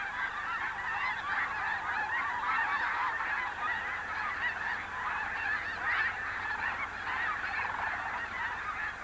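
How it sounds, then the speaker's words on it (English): A large flock of snow geese honks continuously at Bosque del Apache, a dense overlapping chorus of calls from a distance, with no talking. "including ducks and snow geese"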